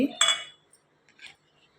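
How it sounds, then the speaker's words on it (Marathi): Spices tip into a mixer jar with a couple of short clinks and rattles, a sharp close knock followed by a fainter tap. "हे पण मी ह्या मिक्सरच्या जारमध्ये टाकून घेते"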